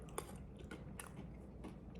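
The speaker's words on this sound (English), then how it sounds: "they put bits of crunchy chocolate" Peanut butter ice cream with crunchy chocolate bits chewed up close, a handful of faint crisp crunches spread unevenly over quiet mouth sounds, with no talking.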